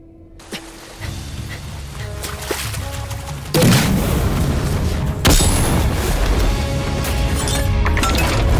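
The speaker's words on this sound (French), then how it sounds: "J'autorise l'usage des grenades." Grenades going off in a video game, heard as heavy booming blasts with crashing, shattering debris, a sharp burst near the middle and another a little later, over a continuous loud rumble.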